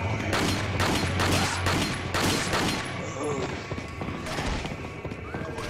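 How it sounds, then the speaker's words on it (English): Enemies shooting guns in Biohazard 4, a rapid fusillade of sharp shots in the first three seconds, then scattered bangs and game noise, with a voice talking over part of it. "They're shooting at me."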